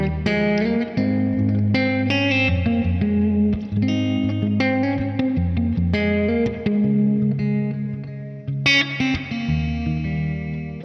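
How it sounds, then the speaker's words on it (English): A Gibson electric guitar on the middle pickup position plays a clean, compressed tone with reverb into a Mesa Boogie amp, ringing chords and single notes that sustain and overlap, close and steady with no talk. "So it's safe to say this guitar has some beautiful clean tones."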